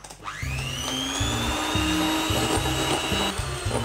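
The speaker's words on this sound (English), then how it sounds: "take your egg whites from before and your leftover sugar and start whisking" Motorized whisk beating egg whites with leftover sugar for a meringue, a steady loud whirring drone with a rising pitch as it spins up, then running continuously with a pulsing low rattle, no talking.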